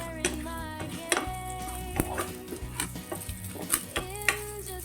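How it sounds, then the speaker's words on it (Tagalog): Garlic and dried shrimp sautéing in a pan with no added oil, heard as faint clinks and scrapes of a utensil against the pan under a low steady background hum. "lagay nyo yung garlic. I-saute nyo lang. kasama ng dried shrimp."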